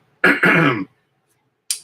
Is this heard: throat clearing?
yes